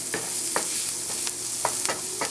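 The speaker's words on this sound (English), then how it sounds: "just going to stir this up a little bit, let all those flavors get involved" Five-spice fried rice is stirred in a pan, with a steady sizzle underneath and several distinct spatula scrapes at irregular intervals, close and clear, with no voices.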